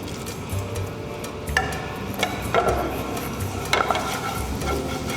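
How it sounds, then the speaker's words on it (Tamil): Fennel seeds sizzle and crackle in hot oil in a small pan, a steady close frying hiss with a few sharper pops, heard alone without talk. "எண்ணெய் சூடாகிடுச்சு இப்போ நம்ம கொஞ்சம் சோம்பு போடுறோம்"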